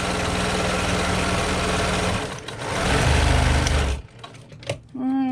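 A sewing machine runs in a steady, loud whir while stitching a half-inch seam with backstitching on a tote bag, pausing briefly, then running again and stopping, followed by a few small handling sounds.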